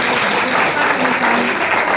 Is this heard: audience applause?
yes